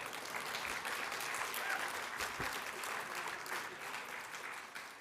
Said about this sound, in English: That deserves some applause, right?